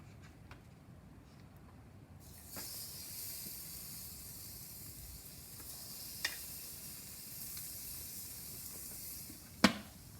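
Cheap steaks land on a hot Weber Q 1200 gas grill and set off a steady, soft sizzle and hiss that continues at low level, with a couple of faint clicks.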